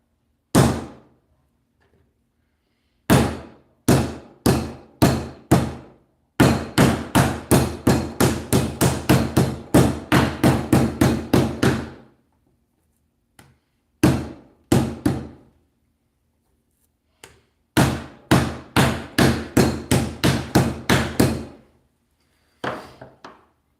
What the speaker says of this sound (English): if you beat the shit out of it with a hammer, that significantly reduces that risk of it being too chewy